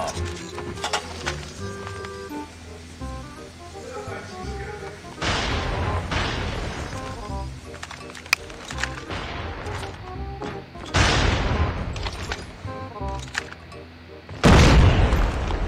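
Sniper rifle shots from a ZRG 20mm in the mobile shooter Call of Duty Mobile, several loud booming blasts spaced apart over game music and effects, with a final close heavy shot.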